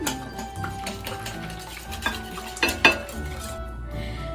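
Frittata ingredients with a little paprika are mixed in a bowl, giving steady scraping and stirring with a few louder clinks of a utensil against the dish near the end.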